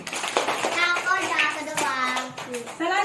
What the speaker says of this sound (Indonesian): Ya tepuk tangan.